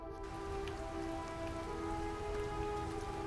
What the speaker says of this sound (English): Nice, it's raining.